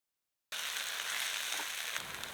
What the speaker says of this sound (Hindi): और अब डाल दीजिए पीसी हुई कच्ची मूंगफली।